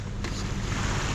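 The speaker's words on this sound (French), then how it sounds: "Attention des vagues." Sea waves wash and rush around a sailboat under gennaker, a loud continuous surge mixed with wind noise on the microphone, heard up close with no talk.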